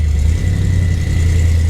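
A 1967 Ford Mustang under repair after a burnout failure, including U-joint, leaf springs and slip yoke, rumbles steadily at low revs as it is put in gear, a continuous close engine drone with no speech.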